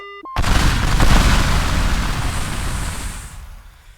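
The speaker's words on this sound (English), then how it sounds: "That was another successful demolition" Explosive demolition of the Elite Street bridge: a sudden loud boom after a brief quiet, rolling into a sustained rumbling roar of collapse that slowly fades over several seconds.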